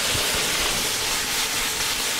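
Wine poured into a hot pan of crisp asparagus for a pasta dish, giving a loud, steady broadband hiss and sizzle that fills the whole clip with no pause.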